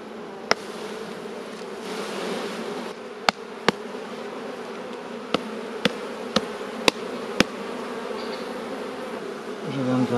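Honeybees buzz continuously around an opened hive frame held above the hive, a dense steady drone close by, punctuated by several sharp knocks and clicks.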